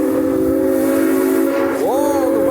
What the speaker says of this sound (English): Whoa, the whistle!